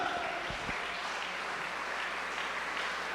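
Congregational applause at a Spanish-language church service, a soft, steady wash of many hands clapping at a distance, fairly faint and continuous throughout.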